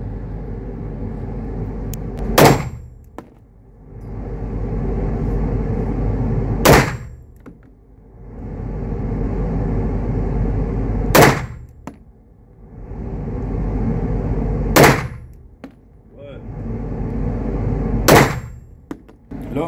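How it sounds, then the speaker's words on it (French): Five loud, sharp firearm shots at an outdoor shooting range, spaced several seconds apart, each with a short ringing tail over a steady low rumble of background noise. "Attention, je tire."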